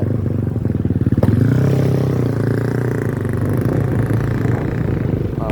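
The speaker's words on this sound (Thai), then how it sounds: "มีวัยรุ่นออกไปซิ่งรถพี่น้องไปละ" Motorcycles revving loudly as young riders race off from an early-morning market crossroads, a close, droning engine roar with clattering and rising throttle that holds steady throughout, no voices over it.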